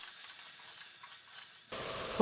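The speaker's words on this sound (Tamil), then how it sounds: "இப்போ நல்லா வதக்கி விட்டுக்கலாம்" Steady sizzling hiss of green peas and paneer sautéing in a hot pan, growing louder and fuller near the end as more goes in.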